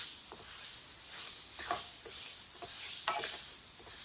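Chopped raw mango cooks with spices in a pan for a quick pickle, giving a soft, steady sizzle with a few light stirring scrapes spread across the moment.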